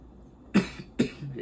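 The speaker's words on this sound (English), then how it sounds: "the hot must have already got me. Got me coughing already." Two quick, sharp coughs close to the microphone, about half a second apart, against a quiet background.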